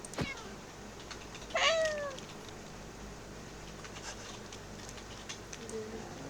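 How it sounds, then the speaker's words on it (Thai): A cat gives a single clear, rising-then-falling meow partway through, heard over a quiet background with scattered soft clicks and taps. "เฮ้ยน้องเหมียว"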